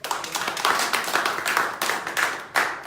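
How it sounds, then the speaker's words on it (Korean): A small audience at a book talk about night labor claps for about three seconds, a steady patter of hands swelling in several close bursts, with no voices over it. "박수 한번"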